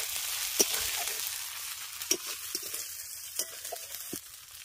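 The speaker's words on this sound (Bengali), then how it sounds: "আদা রসুনটা দিয়ে হালকা করে আগে একটু ভেজে নেব।" Ground ginger, garlic and dried chilies sizzle softly in hot oil, the first step of a rohu fish curry. The frying hiss is steady and quiet, broken by a few sharp clinks of stirring.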